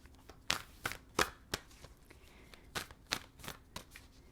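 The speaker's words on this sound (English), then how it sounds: "Let's shuffle the cards" Tarot cards are shuffled by hand at close range: a quiet run of crisp riffling snaps and soft slaps, irregular bursts spaced across a few seconds in an otherwise still room.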